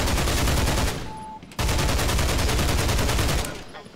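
Shotgun fire in the Half-Life remake Black Mesa, a dense loud burst of gunfire with a brief dip before more shots continue, fading slightly toward the end.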